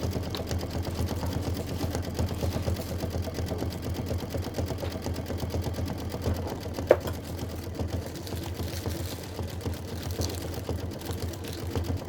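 An embroidery machine stitches a Kimberbell snowman block with a fast, even mechanical chatter that runs continuously at moderate level, with one sharp click partway through.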